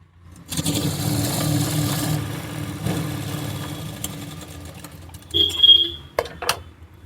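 A sewing machine stitches together two stacked fabric pieces of palazzo pants, a steady whirring run of several seconds, then short bursts with a faint high tone near the end.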